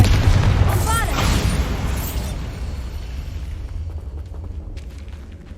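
A Bombarda spell blast booms in Hogwarts Legacy, a loud rumbling burst at the start that slowly fades into a low, continuous roar while a voice talks.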